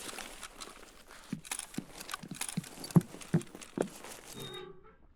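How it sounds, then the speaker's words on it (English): Footsteps in Escape From Tarkov PVE on the Reserve map, a run of soft, irregular crunching steps that are fairly faint and distant, with a few louder thuds near the end. "Not sure where them footsteps are coming from."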